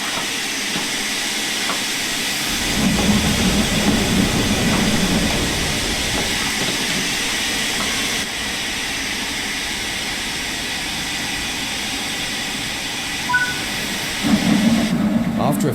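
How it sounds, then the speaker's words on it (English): A steam locomotive in Train Sim World 5 begins moving, with steady hissing steam and a low rumble, plus periodic louder chuffs, while a narrator talks over it. "the cylinders should have been blown clear by the steam jetting out of them"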